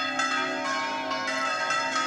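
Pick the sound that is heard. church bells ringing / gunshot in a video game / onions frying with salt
church bells ringing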